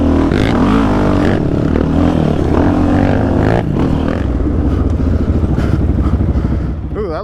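A Blade 400X ATV engine revs on a trail ride at an ATV park, a loud, continuous droning roar close by that holds steady before easing off at the end.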